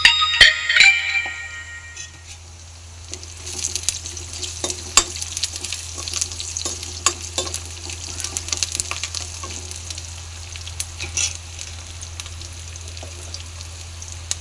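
Peanuts for chutney sizzle and crackle steadily in a hot pan, with a burst of sharper pops at the start and scattered spits throughout.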